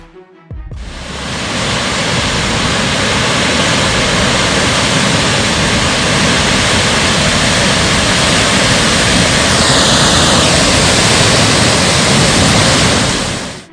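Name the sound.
floodwaters rushing from overflowing rivers in South India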